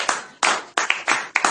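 A church congregation claps in unison, five or six sharp, loud, rhythmic claps close by at a quick regular pace, with no voices over them.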